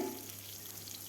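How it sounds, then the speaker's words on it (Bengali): Pointed gourd pieces frying in hot oil give a steady, close sizzle that holds evenly for about a second with no voices. "পটলটা ভাজা হয়ে গেছে আমার প্রায়"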